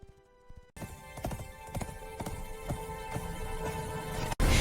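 Horse hooves clip-clop through a dark forest, with a steady run of sharp, evenly spaced knocks at moderate loudness over a dense, noisy background in an animated fairy tale.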